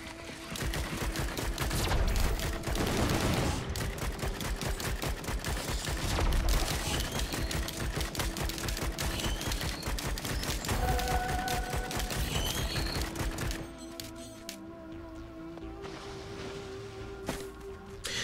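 Rapid, sustained gunfire from the player's weapon in the video game Risk of Rain 2: dense, loud bursts of shots for most of the stretch, then tapering into quieter game sounds near the end.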